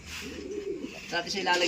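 A Victor Lim pigeon hen coos softly and faintly at close range, with someone talking over the low, murmuring calls.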